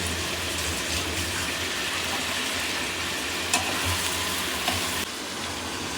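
Tomatoes for biryani sizzle and fry steadily in a pan, a constant close hiss with a couple of faint clinks.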